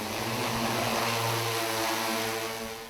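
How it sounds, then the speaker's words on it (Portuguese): An agricultural spraying drone flies over a coffee plantation, giving a steady, loud, even propeller whine and rotor buzz that holds for several seconds with no talk. "Já está cada vez mais comum ouvir esse som numa lavoura de café. O drone que faz a pulverização"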